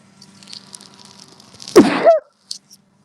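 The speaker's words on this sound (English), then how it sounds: "I sneezed right into the mic" A single loud sneeze right into a microphone bursts out over faint background noise during a livestream, followed by a couple of small sounds.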